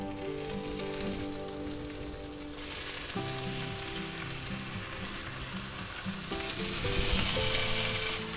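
Three slices of smoked ham sizzle steadily in a pan over a medium burner, a continuous crackling fry that swells slightly louder toward the end; there is no talk, though a faint tonal hum runs underneath.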